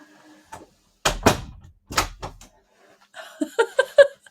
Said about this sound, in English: I didn't close my door.